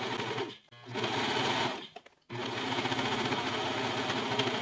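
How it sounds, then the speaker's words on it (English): A serger overlocks a fabric seam on baby dungarees, humming loud and fast up close. The motor runs in two long stretches, broken by a short pause in the middle and a brief stop later, with no talking. "we want to serge that"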